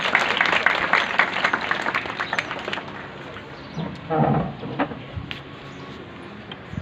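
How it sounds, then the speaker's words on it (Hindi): Applause from a church congregation at a cake-cutting ceremony, a dense wash of clapping that swells and fades over several seconds, with a few louder bursts and some background voices. "तालियों के साथ"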